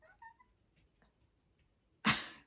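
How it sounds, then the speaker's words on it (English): A pet cat gives a brief soft meow, then faint small sounds follow before an abrupt loud burst like a sneeze close to the microphone. "My cat."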